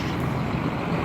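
Tractors pull away at a farmers' protest in Poznań, giving a steady, fairly loud low engine rumble with no break.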